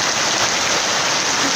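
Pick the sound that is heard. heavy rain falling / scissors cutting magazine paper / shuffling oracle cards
heavy rain falling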